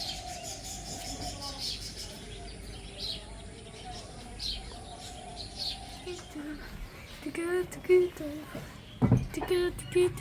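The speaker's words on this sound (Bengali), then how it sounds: "পাখি ডাকছে" Morning birds at Sundargram eco village near Kolkata chirp in scattered short calls that grow louder and more frequent toward the end, with voices in the background.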